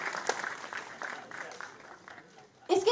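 Audience applause at an appointment ceremony in Ravindra Bhavan, Bhopal: a moderate, steady patter of clapping from the hall, a little distant, rising briefly at the end.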